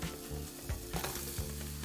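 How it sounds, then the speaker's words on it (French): Strawberries with a little sugar sweat in a saucepan for a coulis, giving off a steady close sizzle with soft stirring scrapes and no voices. "Dans une casserole, je vais les faire un tout petit peu suer comme ça."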